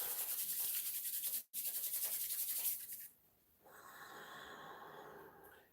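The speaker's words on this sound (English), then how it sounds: "rub the hands together" Palms rubbed briskly together during a qigong exercise, a loud, dense friction hiss for about three seconds with a brief pause, followed by a softer, steadier breathy sound.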